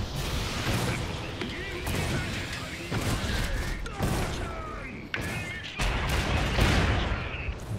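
Battle gunfire in the video game Iron Harvest: dense, overlapping shots and heavy thuds in repeated bursts fill the whole stretch, loud and continuous, with a player's voice talking over it at times.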